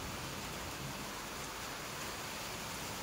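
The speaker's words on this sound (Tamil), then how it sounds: "பாருங்க மழைலாம் எவ்வளோ மழை பயங்கரமாக பெய்யுது" Heavy rain pours down outside in Jaigad, Ratnagiri, a dense, even hiss of falling water with no breaks, fairly faint and steady throughout, with no voices.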